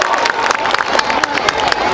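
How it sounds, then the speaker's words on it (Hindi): An audience at a school annual day function claps and cheers loudly, a dense wash of applause with crowd noise filling the whole moment. "जोरदार तालियों के साथ बहुत खूब"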